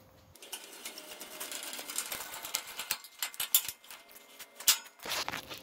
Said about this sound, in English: Jack folds up out of the way nicely.